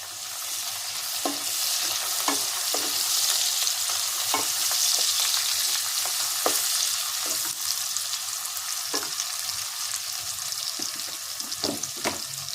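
Onions frying in oil for a home-style Bengali and Bihari mutton curry, a steady close sizzle broken by repeated scrapes and clicks of stirring throughout.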